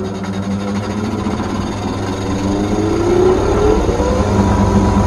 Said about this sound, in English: But let's get the lathe going.